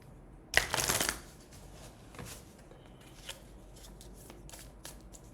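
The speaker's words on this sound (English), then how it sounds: "I'm going to go ahead, shuffle, mix it up." A deck of tarot cards being shuffled, one loud riffling burst near the start followed by quieter scattered taps and card handling in an otherwise calm room.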